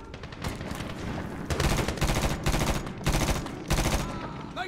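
Bursts of automatic rifle fire rattle in repeated rapid volleys during a Medal of Honor (2010) firefight, loud and close, with short pauses between strings of shots and faint game sounds underneath.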